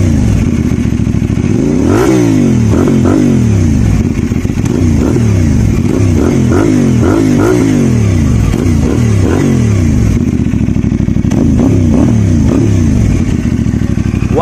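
CF Moto 450 SR motorcycle engine revved repeatedly in loud, rising and falling blips with rapid throttle pulses, close up and alone without talk.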